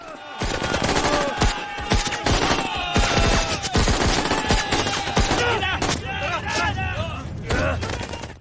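Dense gunfire from a battle reenactment of the Mamasapano clash crackles in rapid, overlapping bursts like automatic weapons, loud and continuous, with someone narrating over it.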